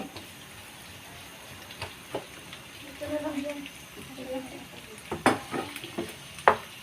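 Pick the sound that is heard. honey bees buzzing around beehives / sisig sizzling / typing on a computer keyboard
sisig sizzling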